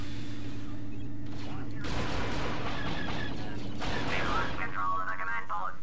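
Blaster fire in the Star Wars Battlefront 2 Ryloth mod: a steady run of shots layered over game music and ambience, filling most of the clip at moderate loudness.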